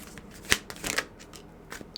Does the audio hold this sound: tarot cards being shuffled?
yes